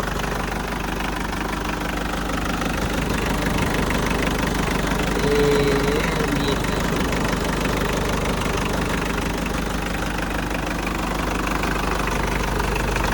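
A used pickup dump truck's engine idles with a steady, low, knocking rumble that stays even and close throughout, with no talking over it.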